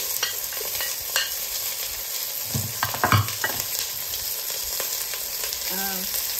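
Garlic and onion frying in oil for homemade pizza sauce, a steady close sizzle with occasional stirring scrapes and a brief clink near the end, no talking.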